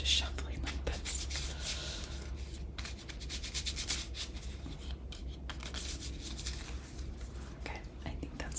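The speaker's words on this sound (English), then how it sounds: "maybe I'd be better off just shuffling like this." Soft, continuous rubbing and riffling of Magic: The Gathering cards being shuffled by hand, close up, with light papery flutters repeating throughout.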